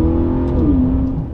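An Aston Martin DBX on a New Zealand road, its engine accelerating hard with a steady, loud growl that rises and shifts pitch as the revs climb, heard continuously with no voices.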